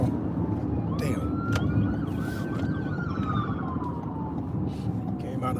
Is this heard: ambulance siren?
yes